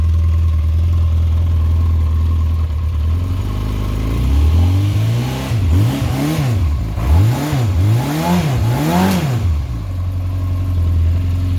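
A 1992 Yamaha XJ600 Seca II air-cooled four-cylinder motorcycle engine with stock mufflers idles steadily, then revs up and down in four quick throttle blips before settling back to idle, loud and close.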